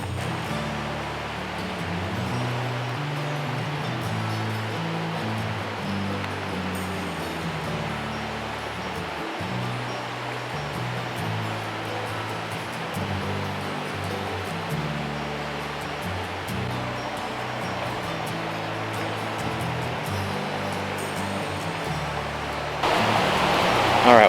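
A river flows steadily at its edge in North Carolina elk country, a continuous broadband rush that stays constant throughout, with a brief louder burst near the end and no talking.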